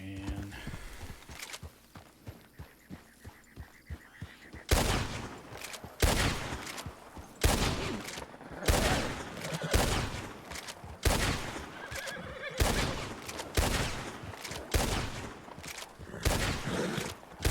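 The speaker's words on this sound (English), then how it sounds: "shooting" Repeated bursts of gunfire ring out in a Wild West roleplay game set in 1903, spaced evenly and loud, amid horse whinnies and clip-clopping hooves.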